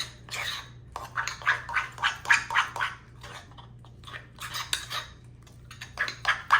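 Sourdough starter scraped around the sides of a jar, with repeated clinking and scraping strokes of a utensil against the glass in uneven bursts, close and moderately loud.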